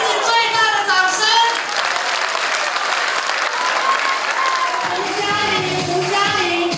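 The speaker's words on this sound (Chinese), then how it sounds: "我们给自己最大的掌声" A church congregation gathered for a thanksgiving service and sports day applauds, sustained loud clapping from a large crowd filling the space, with a voice heard over the end.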